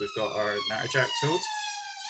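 A wailing siren outside in Glasgow, with steady rising and falling tones, runs through the whole clip, under someone talking.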